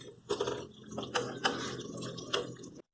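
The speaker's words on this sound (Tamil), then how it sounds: "எண்ணெய் காஞ்சிட்டு நம்ம முறுக்கு அதில் போட்டுடலாம்" Rice flour murukku frying in hot oil in a home kitchen, a close, steady sizzle with scattered crackles and pops for about three seconds before it cuts off abruptly.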